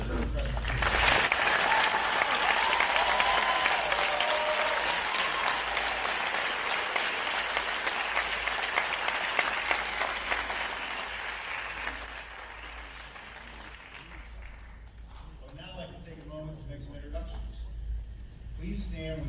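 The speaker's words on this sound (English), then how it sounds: "join me in a round of applause as we show gratitude for this incredible team" A large graduation commencement audience claps in a loud, dense, sustained round of applause that gradually tapers toward the end, with a few voices audible as it thins.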